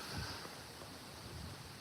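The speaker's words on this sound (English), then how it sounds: "It's so noisy and windy." Steady wind rushes and buffets the microphone, a broad continuous roar with no voices.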